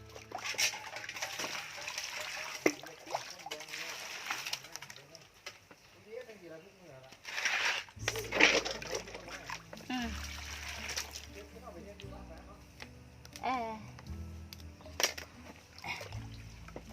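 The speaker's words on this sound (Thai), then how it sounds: "เดี๋ยวเราไปล้างมันกันนะคะ" Freshly dug wild yam tubers are washed by hand in water, giving intermittent splashes and trickling close by while someone talks over much of it.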